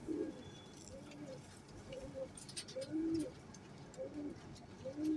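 A male teddy pigeon coos in repeated soft, throaty phrases about once a second, close by and moderately quiet against faint background hiss.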